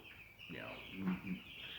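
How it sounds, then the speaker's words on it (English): Chicks in a brooder give short high peeps and soft chirps, a few quick calls close by over low background noise. "As you see, the chicks look good. They're happy. They're running around"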